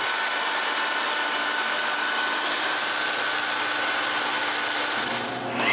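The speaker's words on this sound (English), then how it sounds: "I can drill the screw holes for the triangular block" A power drill bores screw holes in a wooden triangular block for a homemade wooden bandsaw, a loud steady whirring grind that holds nearly six seconds before easing off at the end.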